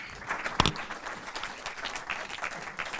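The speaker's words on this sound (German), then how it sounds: "Euer Applaus." Applause from an event audience in Frankfurt greeting guests onto the stage, moderate clapping with one sharp nearby clap early on, fairly quiet and continuous.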